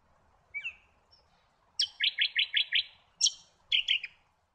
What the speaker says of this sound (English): The brown honeyeater is one of the noisiest.